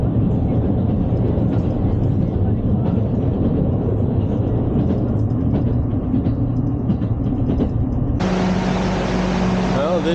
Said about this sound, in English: the special train I took from Miyazaki.